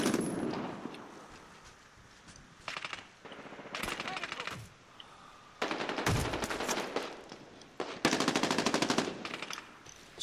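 Rapid automatic gunfire crackles in repeated bursts in Medal of Honor Warfighter, some long rattling volleys and some short clusters of shots, with quieter pauses between them.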